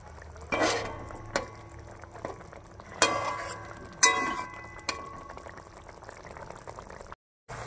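Parshe fish being turned over in a pan of frying fish curry. Steady sizzling runs throughout, broken by several sharp clinks and scrapes of a utensil against the pan.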